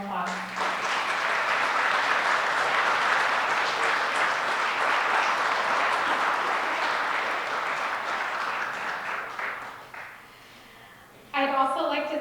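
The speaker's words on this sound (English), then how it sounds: "Please give them a round of applause." Sustained applause from an audience at an evening program of talks and performances, a loud, dense wash of clapping for about ten seconds that thins out and fades, then a brief burst of other sound at the end.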